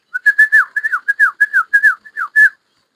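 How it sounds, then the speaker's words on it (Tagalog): A person whistles a quick series of short, rising-and-falling chirpy notes to call quail chicks, about a dozen in a rapid irregular rhythm, close and clear with no talking. "nagre-respond yan sa sipol"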